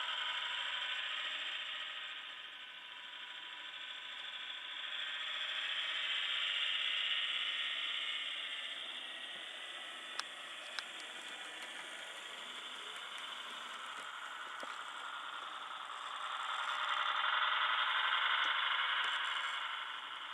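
An HO scale Eureka Models CPH railmotor runs on a model layout as the throttle comes up. It gives a steady whirring, grinding mechanical drone that swells and eases, with a couple of faint clicks and no talk.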